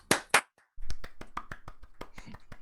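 A few people clap: two sharp, loud claps, a short pause, then a run of quicker, uneven claps close by.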